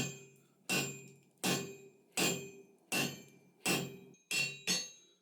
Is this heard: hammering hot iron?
yes